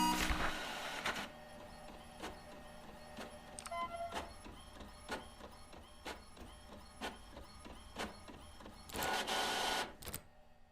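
A printer in the horror game The Mortuary Assistant runs through a print job with bursts of mechanical whirring at the start and end, with evenly spaced clicks and ticks between them, faint and close.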